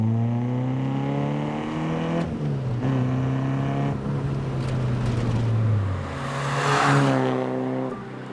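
A Peugeot 205 GTI engine revs up close, its tone rising and falling through several climbs before it settles and surges again, loud and alone without talk.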